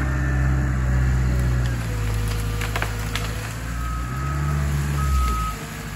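Heavy machinery rumbles loudly and steadily at close range while breaking up a felled hemlock during tree removal, with splintering wood cracks and a high reversing-beep tone cutting through the engine drone.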